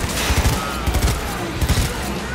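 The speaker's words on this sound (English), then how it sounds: "This gun's pumping it out." Gunfire in the video game Cyberpunk 2077, a loud rapid volley of shots from a gun in bursts, close and dense across the whole moment.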